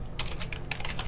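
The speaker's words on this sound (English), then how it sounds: "I'm going to type in CNET Jodix, J-O-D-I-X" Quick, close clatter of keys on a computer keyboard, a short burst of typing with no voices.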